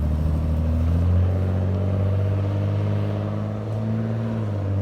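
A Jeep XJ engine revs as the vehicle pulls away, a steady loud mid-pitched drone that rises slightly, then eases and climbs again.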